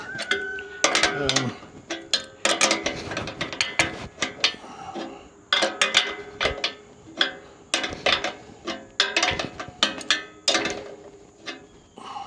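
Bolts being snugged up on a Freightliner Classic truck while exhaust stacks are fitted, with bursts of rapid ratchet clicking and metallic clanks repeated throughout, close and loud, with no talk.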